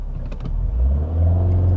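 A 2022 Mercedes-AMG GLA45 hot hatch accelerates hard from a standstill without brake boosting, its engine rumble swelling into a loud, deep, rising roar, close and alone.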